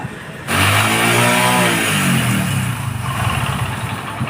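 A Hero Splendor Plus motorcycle with a worn sprocket bearing starts up abruptly and runs close by, its engine note rising and settling into a steady idle with mechanical chatter underneath.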